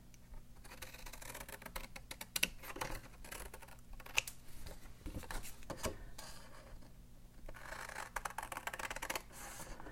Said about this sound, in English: So we'll use the good old scissors.